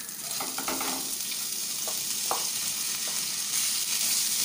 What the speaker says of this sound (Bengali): চালগুলোকে সুন্দরভাবে আস্তে আস্তে নিয়ে একটু ভেজে নিতে হবে মিনিট খানেক পর্যন্ত।